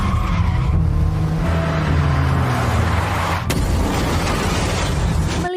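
A car skids along a road with a sustained tire squeal over engine noise and then crashes with a sharp impact near the end, loud and close, with no talk.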